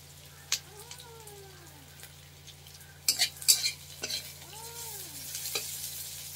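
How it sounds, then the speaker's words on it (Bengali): Onion lightly frying in a pan with a soft sizzle, broken by a few clinks and scrapes as it is stirred, steady and close. "পেঁয়াজটাকে ভেজে নেবো হালকা করে।"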